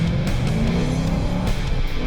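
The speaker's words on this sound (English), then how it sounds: "I'm in third gear right now, and it's accelerating like I'm in first." A Ford Mustang with a Sprint Booster throttle controller in race mode pulls hard in third gear, its engine a loud, steady, dense roar that holds without break throughout.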